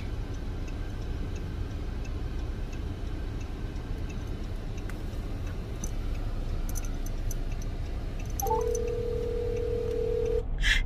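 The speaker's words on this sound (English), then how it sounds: "I'm about to call my mama Dot just to harass her right quick." A phone dialing a call, with faint ticks of keypad tones over steady background rumble, then a single sustained ringback-style tone near the end, nobody speaking.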